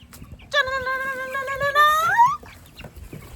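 A single loud fowl call rises and wavers for nearly two seconds over faint background noise, like a chicken squawking up close.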